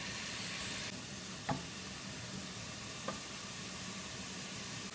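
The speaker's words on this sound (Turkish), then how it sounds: "Yağım ısınırken 3 adet rendelenmiş orta boy havucu yağımın içerisine ekliyorum." Steady, close sizzling of grated carrots frying in hot oil in a pot, a continuous hiss with two faint knocks of a utensil partway through.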